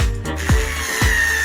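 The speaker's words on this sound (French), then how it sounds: "Je vais tout percer." A power drill bores in short bursts, a whirring motor with a few abrupt pitch drops and thuds as the bit catches, loud and close with no talk.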